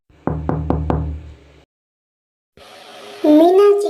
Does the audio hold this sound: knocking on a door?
yes